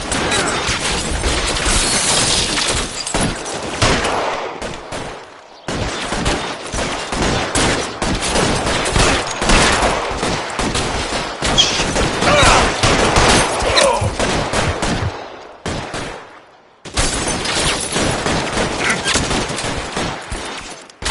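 Dense gunfire in a shootout from the video game L.A. Noire, loud rapid volleys and machine-gun bursts sustained over long stretches, broken by brief silent gaps.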